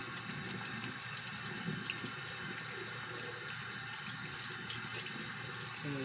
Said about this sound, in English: we have to thoroughly wash our hands